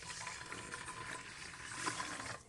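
A cup of water poured into a container, a faint continuous splashing and trickling pour lasting a couple of seconds, quiet and close with no talk.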